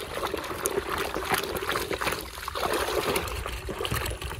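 Water gushing and splashing into a farm sprayer tank on a Punjab sugarcane field, a loud continuous close pour with bubbling surges that dips briefly and resumes.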